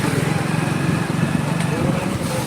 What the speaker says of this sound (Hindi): बाइक स्लो हो जा रही है, देखो बाइक स्लो होगी क्योंकि इंजन ब्रेकिंग का यूज़ हो रहा है।